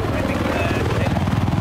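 An enemy helicopter in the Battlefield 4 game, a loud continuous rotor thump with a pulsing low beat throughout.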